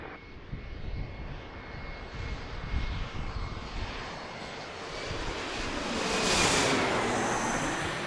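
An airplane arriving at Washington's DCA airport roars past, its engine rumble swelling and building to a loud peak with a rising whine, then holding strong as it nears.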